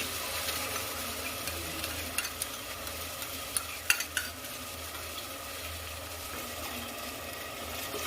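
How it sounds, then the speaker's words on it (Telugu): Quiet, continuous sizzle of tomato purée masala cooking in oil in a pan, with occasional light scrapes and taps from stirring over a low background hum. "దీన్ని బాగా కలుపుకోవాలి"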